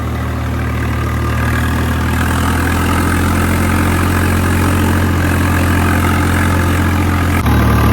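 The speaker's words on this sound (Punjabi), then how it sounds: "ਆਵਾਜ਼ ਦੇਖੋ ਟਰੈਕਟਰ ਦੀ" A model 855 tractor engine runs steadily up close, a loud continuous diesel rumble with a constant low throb throughout and no talking.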